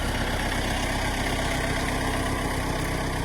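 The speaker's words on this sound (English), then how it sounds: "Luckily, Woodland Mills, the company that makes my sawmill, also make a stump grinder for the tractor." A Woodland Mills stump grinder mounted on a tractor runs its engine at a steady idle, a continuous low rumble that is close and even throughout, with no voices.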